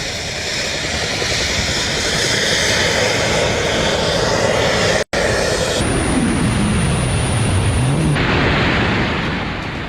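A jet suit worn by a man flying through the air, with its jet engines giving a loud, continuous roar that holds steady throughout, broken by one brief dropout midway, with a higher whine joining in later.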